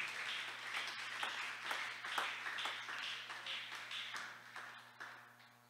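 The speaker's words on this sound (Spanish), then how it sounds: "Dele ese aplauso fuerte al Señor" A church congregation applauds during a Spanish-language sermon: faint, somewhat distant rhythmic clapping with sharp individual claps rising above it, over a low steady hum.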